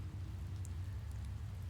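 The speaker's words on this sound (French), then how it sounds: "Il pleut." Steady rain falling in the Motorsport Manager racing game, a soft continuous hiss over a low constant rumble, with no voices.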